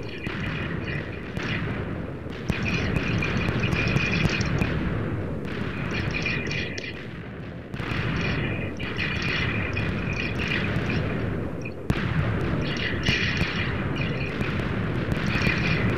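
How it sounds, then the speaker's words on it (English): Fireworks going off in repeated bursts, loud booming explosions followed by crackling sparkle, several volleys spaced a few seconds apart with brief gaps between them. "These are beautiful fireworks."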